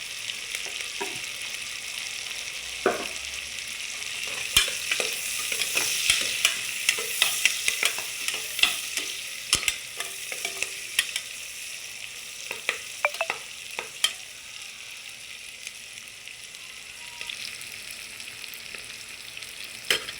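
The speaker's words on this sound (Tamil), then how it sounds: "வெங்காயமும் பூண்டும் கொஞ்சம் வதங்கட்டுங்க. கொஞ்சம் கருவேப்பிலை போட்டுக்கலாம்." Onions, garlic and curry leaves sauté in a pan for sambar rice, giving a steady broadband sizzle broken by sharp scraping stirs and clinks of a spoon, continuous and fairly close, with no talking.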